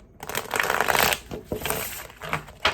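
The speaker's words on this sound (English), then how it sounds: "One more shuffle." Tarot cards are shuffled by hand in quick riffling bursts, a close, crisp flutter broken by short pauses and soft taps.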